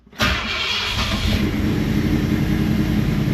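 A car engine starts with a sudden loud burst and then runs at a rough, rumbling idle with small throttle rises close by.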